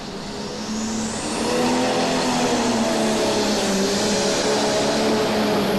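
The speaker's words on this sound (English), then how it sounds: "Watch her get ready to drop the hammer on that tractor, and here she comes." A pulling tractor at the 1991 National Farm Machinery Show revs hard, its loud, roaring engine climbing and holding a sustained high-power drone with rising harmonics, heard alone without talk.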